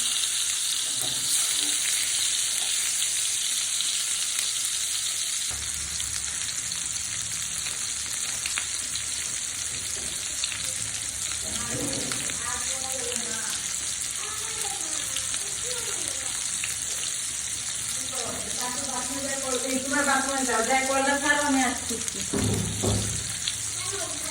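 Flat bean patties, shim paturi, fry uncovered in a pan with a constant loud hiss and crackle of oil, while a voice speaks intermittently over the sizzle in the later part.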